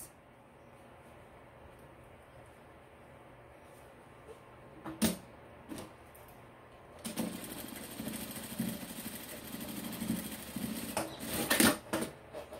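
A sewing machine stitches through 3D fabric, starting with a few short whirring bursts and then running in a steadier close rattle, with no talking.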